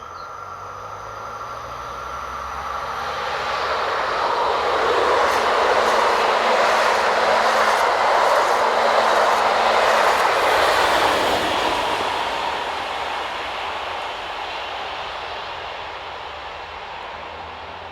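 Passenger train departing Rambouillet, pushed from the rear by locomotive BB77300, swelling from a distance to a loud rumbling pass with rail clatter, then slowly fading away.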